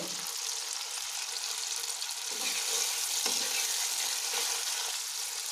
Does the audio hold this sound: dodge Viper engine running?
no